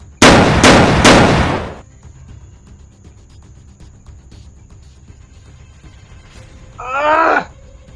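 Three loud, sharp gunshots in quick succession open the scene, then a quiet stretch, ending with a strained, groaning cry.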